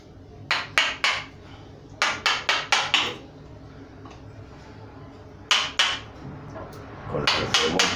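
A small chisel is struck with a mallet while carving a carob bonsai stump, giving sharp, close knocks in quick clusters of three or four, separated by pauses.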